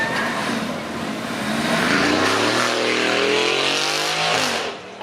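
An Aston Martin Vantage with a 4 litre twin-turbo V8 roars as it accelerates away on a supercar weekend run, loud and rising in pitch before fading off at the end.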